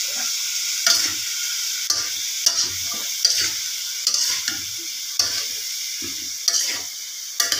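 Mixed vegetables frying in a pan are stirred with a spatula, giving sharp scraping strokes at regular intervals over a quiet background sizzle, close up.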